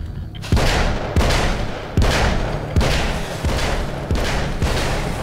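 Video game gunfire shot into the air: a rapid run of about seven loud, sharp bangs spaced evenly, each with a short rumbling tail, close and with no voices.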